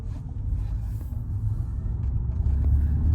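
A stock Euro-market 1997 BMW Individual 316i Compact on the move, heard as a steady, close low engine and road rumble that swells slightly toward the end, with no talking.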